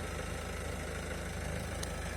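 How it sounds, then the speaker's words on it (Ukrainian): A 2018 Citroen Berlingo engine idles steadily nearby with a low, even rumble and constant hum. "Зараз мотор працює."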